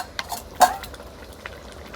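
Cumin paste being stirred into water in a cooking pot: soft scraping and a few light clinks, with one sharper knock of the spoon against the metal side.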